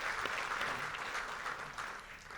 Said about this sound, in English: Can we give Chairwoman Terry Gobin another round of applause